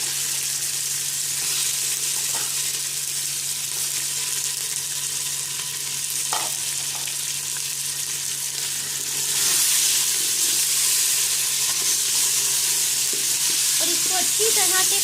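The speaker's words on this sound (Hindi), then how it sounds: "और इसको अच्छी तरह से फ्राई करेंगे।" Beef with ginger garlic paste fries in a pot for haleem, giving a steady close sizzle with occasional stirring scrapes that swells louder in the second half.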